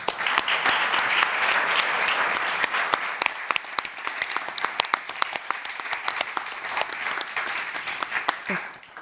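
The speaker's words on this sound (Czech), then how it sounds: "Nezbývá než zatleskat." An audience at an education conference panel on lifelong learning and the labour market applauds, a dense, sustained wash of many hands clapping, gradually loosening into more distinct individual claps before fading.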